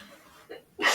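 A sharp sneeze bursts out near the end, loud and close, after a quieter stretch of breathy room noise in a classroom setting.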